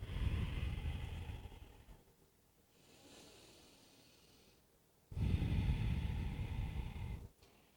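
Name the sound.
breathing during yoga forward fold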